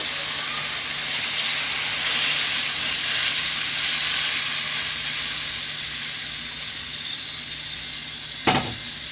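Rice starch water hits a pan of sautéing taro leaves and flattened rice, giving a steady, fairly loud steamy hiss and sizzle that eases slightly, with one sharp knock near the end.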